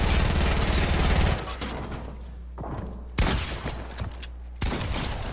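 Gunfire from a Fortnite battle royale solo match comes in loud, dense bursts of rapid shots with brief gaps and abrupt restarts, harsh and close.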